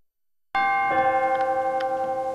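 A bright, ringing chime from an organ's chime stop strikes after a moment of silence, then a second tone enters and both sustain with a slight shimmering decay.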